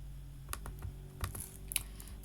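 Keys clacking on a computer keyboard while code is typed, a short run of quiet scattered keystrokes with a few sharper taps, close and faint over a low steady hum.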